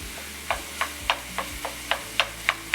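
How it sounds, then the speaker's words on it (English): Spoon breaking up and stirring ground meat with onions in a skillet, a steady series of scraping taps roughly every third of a second over a soft background hiss, no talking. "just start breaking it up with your spoon and folding in the onions"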